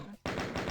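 Rapid automatic chain gun fire from the DOOM video game, a dense continuous burst of shots that starts abruptly after a brief lull and keeps hammering loudly to the end.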